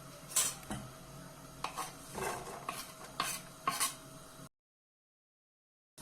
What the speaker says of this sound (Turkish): Orta ateşte küçük yemeklik doğramış olduğum soğanları iyice kavuruyorum.